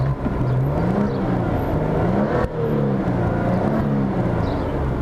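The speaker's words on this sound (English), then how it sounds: "Let me just blip the throttle." A Maserati Ghibli Q4 S twin-turbo V6 in normal mode idles close up, its engine tone briefly wavering with light throttle blips and a short dip midway before settling back to a steady hum.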